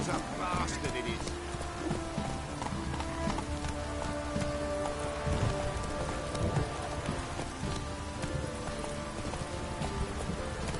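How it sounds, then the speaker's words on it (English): A heavy downpour in a video game hisses steadily and loudly, with a horse's hoofbeats clopping underneath and a voice speaking briefly. "This downpour's a bastard,"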